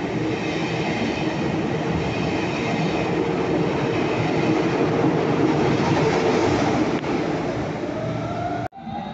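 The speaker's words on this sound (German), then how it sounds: "ICE 1 und ICE 2 sind das." German ICE 1 and ICE 2 high-speed trains at a station, a loud continuous rolling rumble with a steady hum and faint squeal, ending abruptly near the end.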